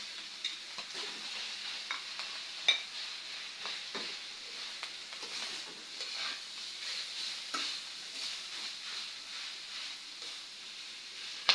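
Chopped bamboo shoots (labong) sautéed in a pan, a quiet steady sizzle broken by frequent light clicks and scrapes from stirring, a few sharper knocks, no voices.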